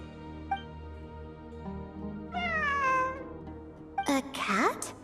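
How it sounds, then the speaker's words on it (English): A cat in the video game Genshin Impact meows a few times: a faint low tone first, then a clear rising meow and a sharper closing cry over a quiet background drone. "It really is a cat."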